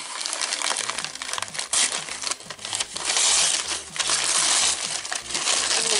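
A cardboard mail package being peeled and torn open by hand, loud close crinkling and crunching of paper and tape in irregular bursts, no talk.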